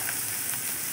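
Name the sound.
coriander leaves frying in oil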